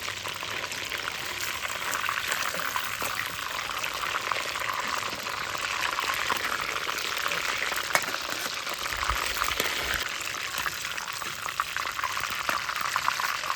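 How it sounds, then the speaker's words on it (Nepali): Chicken frying in oil for biryani, a dense, even bubbling sizzle that holds steady throughout at moderate loudness, with no talk. "ल साथीहरू, ल सेकेन्ड लट फेरि फ्राई गर्छ है साथीहरू।"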